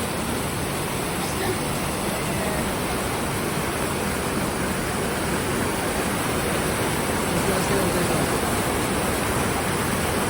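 Steady, dense roar of St. Anthony Falls in Indang, Cavite, Philippines, a constant broadband rush of falling water with no breaks, close and fairly loud.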